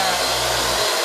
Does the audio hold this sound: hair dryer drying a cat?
yes